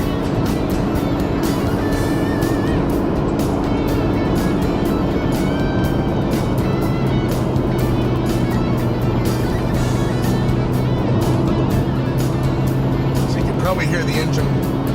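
A hybrid car's engine drones steadily at high revs while driving along a British Columbia highway and charging its battery, a continuous hum with road and wind noise inside the cabin.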